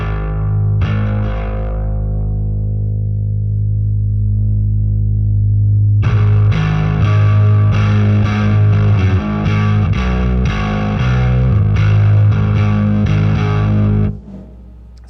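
A bass guitar played loud through an MTI-era Ampeg SVT amplifier with the master volume near halfway, giving a heavy, distorted low tone that starts with a long held note, then a driving run of notes, before cutting off.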